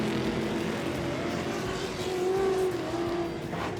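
Ultra4 off-road race cars crossing the start-finish line at the Crandon World Championship on a Saturday night, a steady loud engine roar with a rising whine as one car passes close, no talk.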